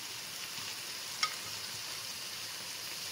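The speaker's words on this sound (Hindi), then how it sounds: "अभी इसको भुनेंगे 5-7 मिनट तक इसको बुनाई करेंगे इसकी।" Meat (shaljam gosht, mutton with turnips) roasts in a pan with dried fenugreek, dry coriander and cumin, giving a steady close sizzle and crackle with one brief clink.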